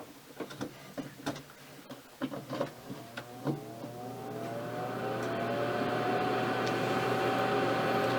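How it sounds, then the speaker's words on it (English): Food dehydrator with a fan pushing hot air up through its trays to dry cartridge cases: a few light clicks and clatters, then a steady, fairly loud whirring motor hum that continues to the end. "All you're hearing is the fan blowing the hot air up through the bottom out to the top"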